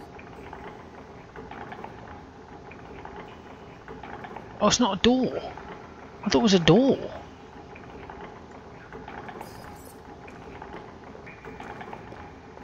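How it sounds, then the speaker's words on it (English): Water drains into an underground system of channels in The Black Mirror video game: a steady, low rushing flow runs throughout, and someone speaks briefly over it near the middle. "The water has drained into the underground system of channels"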